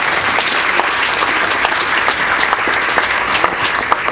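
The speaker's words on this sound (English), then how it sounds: "Can we give them a round of applause?" A crowd at a high school mariachi event applauds the school staff, with steady, dense clapping from many hands sustained throughout at a moderate distance.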